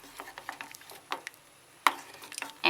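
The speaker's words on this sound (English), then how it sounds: "as you stir, it dissolves with the heat. So just mix in the sweetener." A spoon stirs sweetener into a mug of hot chocolate, giving light scattered clinks and scrapes against the cup, with a sharper clink near the end.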